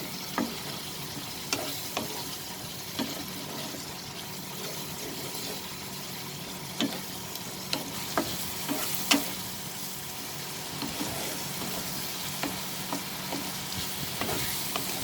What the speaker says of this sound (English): Let's increase the flame and just saute it